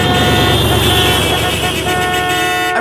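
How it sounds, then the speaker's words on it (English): Car horns honk around a slow-moving car on a road trip, a loud sustained tooting layered over traffic and engine noise for the whole stretch, with a voice partly audible beneath. "everyone was honking at us"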